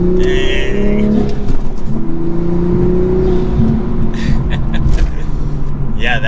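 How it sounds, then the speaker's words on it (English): A manual Toyota Supra fitted with a Pedal Commander throttle controller revs loudly and nearby, its engine tone rising and holding in sustained pulls, while people talk and gasp over it. "The car just hits much quicker from when you give it gas."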